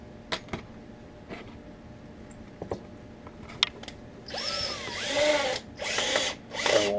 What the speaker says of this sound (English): I think we can go to the bigger drill bit.